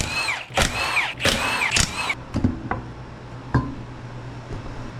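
A power tool backs out a fork bolt on an EF wagon during a traction bar install: a few loud, close whirring bursts, then scattered metallic clicks and knocks.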